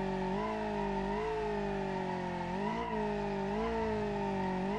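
A car's tires squeal steadily during a burnout in the BeamNG Drive driving game, a loud sustained screech with engine droning underneath, wavering slightly in pitch throughout.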